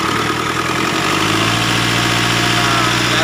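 A Mitsubishi Triton pickup's 4D56 diesel engine, just fitted with a new timing belt adjuster and running without a radiator fan, idles steadily and rises slightly under light throttle, a close, even mechanical hum with no talk.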